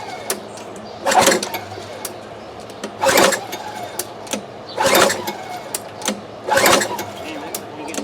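A 1998 Sears & Roebuck lawn mower engine cranks without starting, four separate loud bursts of grinding turnover, each about a second long, with short pauses between them.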